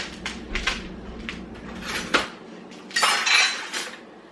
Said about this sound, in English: Let's use a bigger spoon.